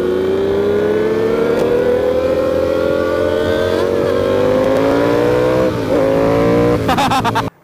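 A Ducati V4 R motorcycle is ridden at full throttle: a loud, sustained engine howl climbs steadily in pitch for several seconds before a brief shift and an abrupt cut-off at the end.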